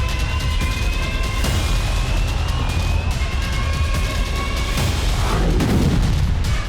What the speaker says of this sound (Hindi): हाइफा पर गिरे रॉकेटों के धमाके एक सीसीटीवी कैमरे में दर्ज हुए